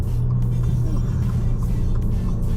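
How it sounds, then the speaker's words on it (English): Low, rumbling exhaust note of a car, likely a Subaru WRX, a steady droning growl close by with a faint rising whine on top and no talk. "Hopefully this is picking up the dang exhaust notes here."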